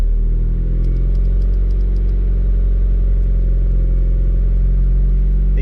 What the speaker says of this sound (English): Exhaust gets louder,